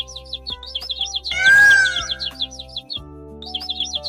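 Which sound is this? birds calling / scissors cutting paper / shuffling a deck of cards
birds calling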